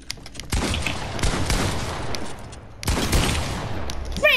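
Gunfire in the video game Fortnite while shooting an opponent, two loud bursts of shots with reverberant crackle separated by a short gap, close and dense, with small game clicks between and no speech.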